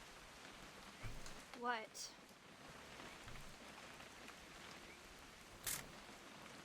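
Steady rain falls across an outdoor scene in the video game What Remains of Edith Finch, a soft continuous patter with a brief voice and a couple of short louder bursts over it.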